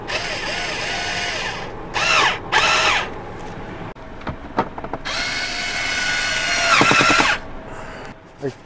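A power drill drives screws back into a car dashboard after a Pioneer AVH-4200NEX radio install, with several short loud whirring bursts separated by pauses and ratcheting clicks, and one longer run near the end.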